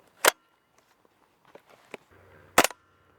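WE Airsoft SCAR-H gas blowback rifle loaded with 0.3 g BBs and red gas, fired into a chronograph: two sharp, loud gas-blowback shots about two seconds apart, with faint clicks and handling noises between them.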